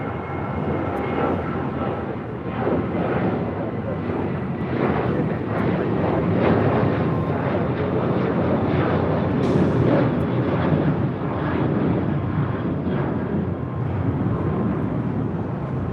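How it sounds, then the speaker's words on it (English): Southwest Airlines Boeing 737-700 taking off from LAX, a sustained rumbling jet roar that swells and holds at moderate distance, with no voices. "This is Southwest Airlines 1657 taking off to Denver on a 737-700."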